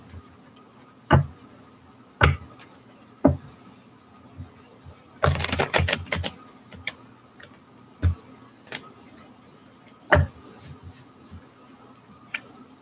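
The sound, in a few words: tarot cards being shuffled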